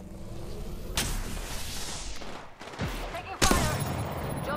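Gunfire in an Apex Legends match on the Olympus map, a scattered burst of shots with a few sharper reports standing out over game ambience, and a voice speaking briefly.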